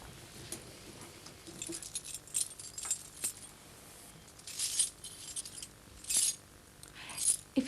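Keys jangling in short, separate bursts of bright metallic chinks, some louder and some softer, with quiet gaps between them and no one speaking.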